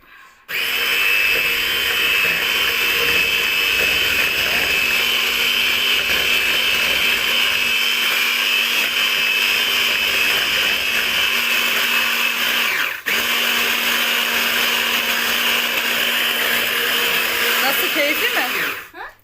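An electric hand mixer beats poppy-seed revani cake batter, giving a loud, steady motor whine that runs nearly twenty seconds with one brief dip partway through before it cuts off.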